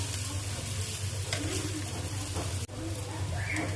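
Ginger and garlic frying in a pan give a steady, moderate sizzle with soft stirring, running continuously under a low kitchen hum.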